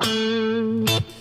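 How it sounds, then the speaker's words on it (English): A sustained electric guitar note through the compressor of a Boss Katana amp holds at a flat, even level, then a short second note is struck near the end before a quick cutoff, with no talking. "now if I put in the compressor."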